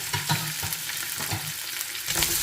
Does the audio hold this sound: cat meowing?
no